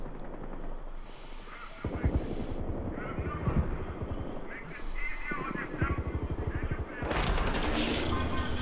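Gunfire in the video game Battlefield Hardline, with rapid automatic bursts and heavy shots rattling close over a constant background rumble, all under intermittent talk from a player.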